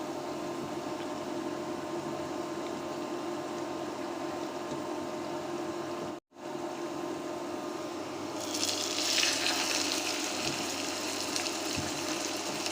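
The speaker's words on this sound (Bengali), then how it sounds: "মাংস রান্না করার জন্য এই হাঁড়িতে তেল পেঁয়াজ ভেজে নিচ্ছি। পেঁয়াজ অলমোস্ট ভাজা হয়ে গিয়েছে। এখন মাংসগুলো দিয়ে দেব।" Beef goes into a pot of hot oil and fried onions. A low cooking hum is broken by a brief silence, then a bright, hissing sizzle swells up and carries on steadily near the microphone.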